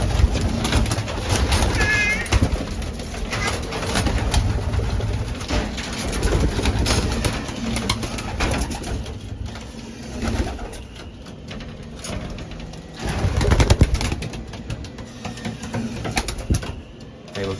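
A large loft of young racing pigeons coos and flutters close by, a dense, continuous murmur of bird calls and wing noise with occasional louder bursts and some talk underneath.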